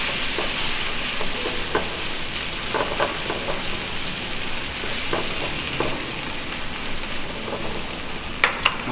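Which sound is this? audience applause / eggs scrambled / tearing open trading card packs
eggs scrambled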